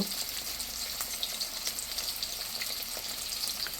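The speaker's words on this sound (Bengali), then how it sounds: "মাছটা ভাজার জন্য দিয়ে দিয়েছি। তেলটা গরম হয়ে গেছিল। এখন আস্তে আস্তে ভেজে নেব।" Marinated mrigal fish fries in hot oil in a frying pan, giving a steady, close, dense sizzle with fine crackles throughout and no voices.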